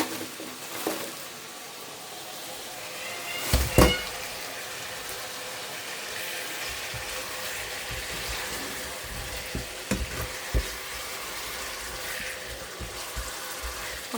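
Potatoes frying in a pan give a steady, close sizzle throughout, with a few sharper clatters and stirring knocks near the start and scattered later.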